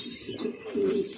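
Pigeons of an original beauty breed, kept as a pair-sold flock, give soft, low throaty coos in a short close run, swelling toward the end with no voices over them.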